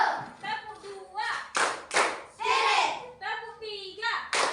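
Schoolchildren in a classroom clap their hands together in short rhythmic bursts during a clapping game led by a teacher, with children's voices chanting between the claps.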